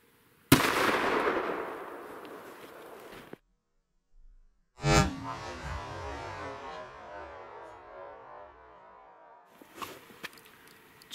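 Two loud, sharp reports from a 300 Blackout rifle with a 16-inch barrel, fired into ballistics gel, come about four seconds apart. Each rings out in a long fading echo, and faint shuffling noises follow.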